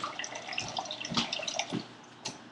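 Kombucha culture rinsed under a running tap, water splashing and dripping unevenly over it at close range, with a few louder splashes along the way and no talking.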